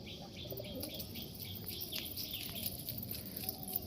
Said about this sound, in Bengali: ওরা সারাক্ষণ ডাকাডাকি করতে থাকে।